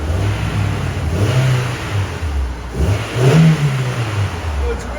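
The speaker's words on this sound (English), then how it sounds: "Go ahead, rev it." A 2000 Honda S2000 with a 2.0L engine and Vibrant resonator exhaust is revved close by in short blips, the engine rising and falling twice over a rumbling idle.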